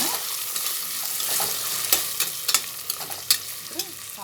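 Chopped beans and carrots fry with ginger garlic paste in a pan, a bright continuous sizzle with several sharp spatula scrapes and clinks as they are stirred, close and without speech.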